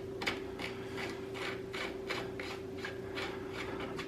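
Front axle nut being screwed onto a Norton Commando motorcycle, a steady series of soft rasping, ratcheting turns repeating at an even rhythm over a constant background hum, close by and with no talking.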